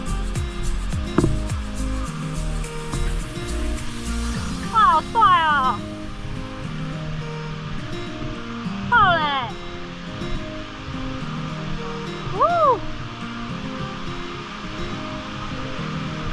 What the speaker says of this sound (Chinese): 水声越来越大